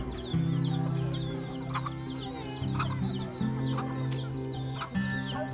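Chickens cluck repeatedly among critters at a rural spot in Samoa, with several birds overlapping in short bursts over a steady low hum, fairly close and moderately loud.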